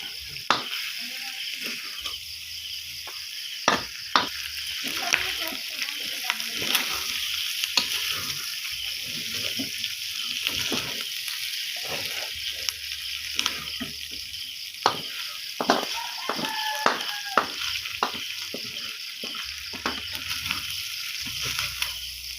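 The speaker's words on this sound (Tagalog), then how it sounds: "halo-halo para lumabas ang mantika" Pork adobo sizzles steadily in its own rendered oil while a spoon stirs it, scraping and clacking against the pan at irregular intervals, close and continuous, with a voice speaking now and then.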